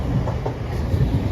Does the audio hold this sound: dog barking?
no